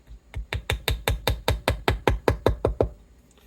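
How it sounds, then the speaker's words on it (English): A rapid, even series of about fourteen sharp metallic taps, close and crisp, a small hammer driving frets into a 1970s Gibson Les Paul Custom fingerboard in quick succession before stopping. "Just hammer those in just like regular nails."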